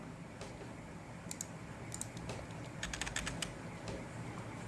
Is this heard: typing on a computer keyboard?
yes